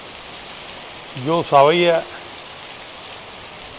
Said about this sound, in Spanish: Y miren dónde estoy parado y dónde está llegando la lluvia, aquí en el portal.